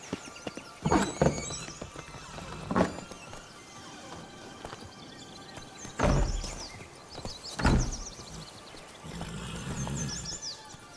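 Roach the horse in The Witcher 3 walking along with steady clip-clop hoofbeats and a few sharp neighs and snorts, heard close and clear over a quiet game backdrop with no talk.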